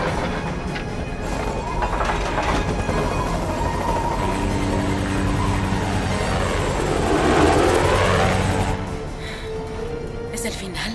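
A small aircraft engine drones loudly and continuously in flight, rising and wavering in pitch with a heavy rumble before easing slightly near the end, and voices talking over it.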